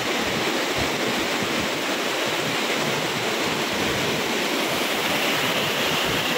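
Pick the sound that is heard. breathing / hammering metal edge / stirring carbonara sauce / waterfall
waterfall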